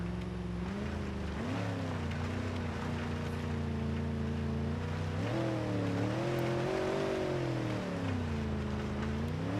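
A pickup truck engine in the BeamNG.drive driving game revs and accelerates, a steady, low droning hum that climbs in pitch twice as the revs build, heard alone and fairly near.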